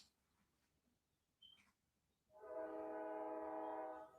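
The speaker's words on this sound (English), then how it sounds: "Goddamn train, what's going on?" A train horn blasts as one long, steady, loud blast lasting almost two seconds, following a quiet stretch with a faint brief squeak.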